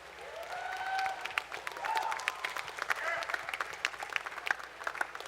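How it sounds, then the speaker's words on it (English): Outdoor crowd applause at a riverfront Fourth of July fireworks event in Alton, many hands clapping steadily with scattered sharper claps and a few faint whistles, moderately distant, with a murmur of voices underneath. "would you please give a round of applause for Mr. Robert Stefan and the Alton Amphitheater Commission"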